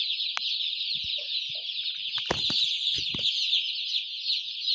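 Chicks of a red-colored chicken breed peep continuously at close range, a steady high chirping chorus with a few louder individual calls standing out.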